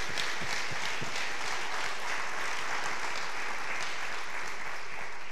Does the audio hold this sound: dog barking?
no